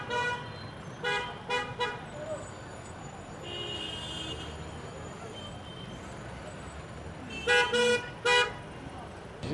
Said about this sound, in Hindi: मज़े लीजिए अब यहाँ की गाड़ियों के हॉर्न के